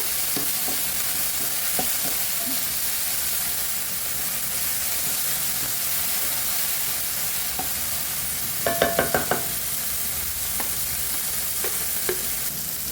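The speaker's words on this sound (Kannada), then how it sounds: "ಮೆಂತ್ಯ ಸೊಪ್ಪು ಚೆನ್ನಾಗಿ ಬಾಯಿಸ್ಕೋಬೇಕು ಸ್ವಲ್ಪ" Fenugreek leaves sautéing and being stirred in a pan give a steady, soft frying sizzle throughout, with light scraping and clinking accents and a brief burst of stirring clatter near the end.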